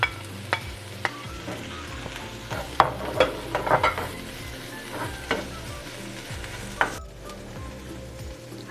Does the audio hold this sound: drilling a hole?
no